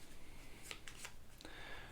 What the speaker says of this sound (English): Shuffle them up one more time